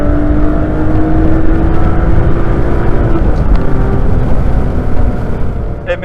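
A car engine pulling at full throttle in second gear, a loud steady roar with a rising tone held for several seconds from inside the cabin, smooth and unbroken.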